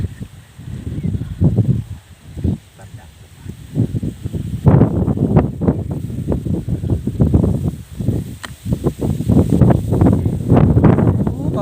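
Strong outdoor wind buffets the microphone in loud irregular gusts, rising and falling throughout with heavy rumbling bursts, no talk over it.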